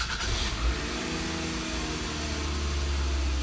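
A car engine idling steadily after its throttle body was cleaned, a close continuous low hum with a brief bump near the start, no voices.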